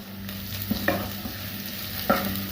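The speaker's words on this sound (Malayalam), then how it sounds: "ഇനി ഇതിലേക്ക് കുറച്ച് കറിവേപ്പിലയും കൂടെ ചേർത്ത് സവാള നല്ലപോലെ വഴറ്റിയെടുക്കാം" Onions and curry leaves sautéing in oil for Kerala fish curry with sardines: a steady sizzle, a low hum running underneath, and a few sharp spatula clinks against the pan, heard up close with no voices.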